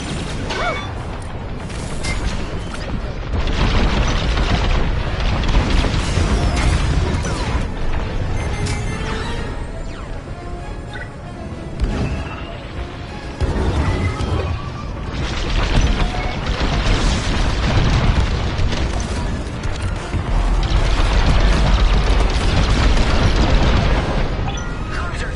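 A starfighter battle in Star Wars: Squadrons as a cruiser is destroyed, with rolling booms and crashing explosions layered over a dense, continuous mechanical roar, loud and sustained throughout.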